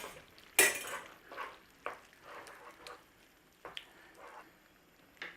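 Heaped tablespoon of tomato paste gets stirred into a pot with a sharp opening clank, then a series of soft scraping, squelching strokes and metallic knocks, quiet and without talk.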